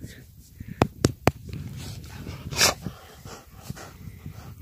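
A dog breathes and snuffles close by, with sharp clicks and a soft whimpering snort over a continuous low rumble, while a person speaks a little.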